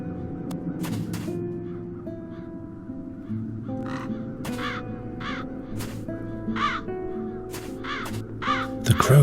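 Crows caw repeatedly in the video game The Dark Eye: Chains of Satinav, with harsh calls scattered irregularly over sustained background music tones.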